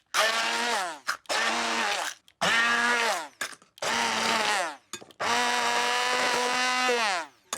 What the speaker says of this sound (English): I'm just going to speed the whole thing up by using a stick blender. So I'm just going to pulse this a few times.